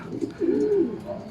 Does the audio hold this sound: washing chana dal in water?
no